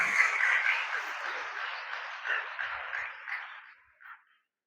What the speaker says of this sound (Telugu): ఒకసారి గట్టిగా చప్పట్లు కొట్టి